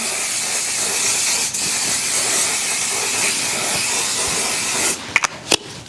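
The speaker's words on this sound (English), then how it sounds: "why does it feel like I'm spraying some strong chemical" A long continuous hiss of makeup setting spray, steady and close for several seconds, ending with a few short sharp bursts.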